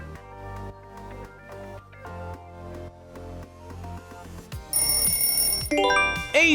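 Asus smartphone ringtone, a bright electronic melody of repeated tonal notes building in a rising pattern, then shifting to higher chiming tones near the end, played clearly with no talking.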